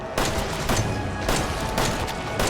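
Gunfire in Resident Evil 7 rings out as a series of sharp, loud shots, roughly four evenly spaced blasts with ringing tails, in a close, dense game mix.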